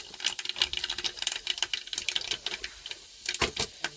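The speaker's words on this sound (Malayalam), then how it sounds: "അപ്പം എൻ്റെ എണ്ണ ചൂടായിട്ടുണ്ട് ഇതിലേക്ക് ഞാൻ കടുക് ഇടയാണ്" Mustard and fenugreek seeds splutter in hot oil, making quick, dense crackles and pops. They come in sharp bursts, close and fairly quiet.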